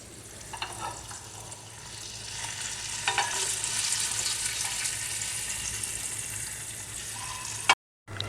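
Paneer pieces lightly frying in hot oil, salted and kept pale rather than browned, give a steady close sizzle with a few sharper spatters, ending in a brief cut to silence.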